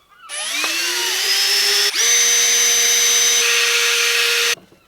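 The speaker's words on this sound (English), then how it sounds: "I'm just gonna pre-drill it" A power drill pre-drilling the sides of an IKEA Knagglig wooden box whirs up to a high steady whine, briefly dips, then runs again at full speed before stopping abruptly; close and loud.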